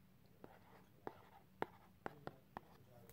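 A stylus taps and scratches on an electronic drawing tablet in about six short, quiet strokes spaced through a hushed, close-up moment.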